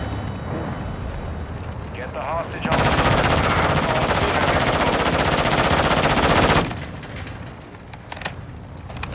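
Sustained rapid automatic gunfire blasts loud and close for several seconds in a Call of Duty DMZ match, preceded and followed by quieter game noise and scattered shots.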